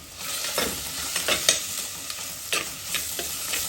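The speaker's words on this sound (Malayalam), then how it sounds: "സവാളയും പച്ചമുളകും ഇട്ടിട്ടുണ്ട് കേട്ടോ ഇനി നമുക്കത് നന്നായിട്ട് വഴറ്റിയെടുക്കാം" Sliced onions and green chillies sautéing in a clay pot, with a close, loud sizzle and repeated scraping strokes of a spoon against the pot, with no talking.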